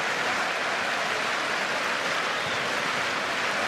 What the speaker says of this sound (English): The crowd are on their feet and applauding